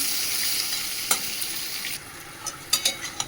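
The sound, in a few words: eggplant frying in pan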